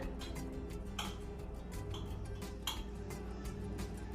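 Rapid, light knife taps on a board while garlic is chopped finely, a steady quick ticking rhythm, faint and close, with no talking.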